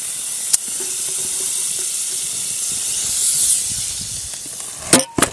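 Butter sizzles in a hot, empty frying pan with a steady, loud hiss that holds throughout, ending in a few sharp clatters.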